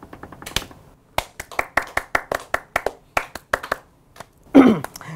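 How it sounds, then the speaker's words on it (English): A few people clap by hand, sharp separate claps in an uneven quick rhythm, close and bright, ending with a brief cheer. "Round of applause!"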